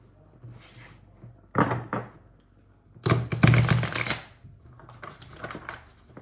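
Thick tarot cards shuffled on a soft surface, heard as a few bursts of riffling and tapping with a longer rustling run in the middle, close and fairly muted, with no talk.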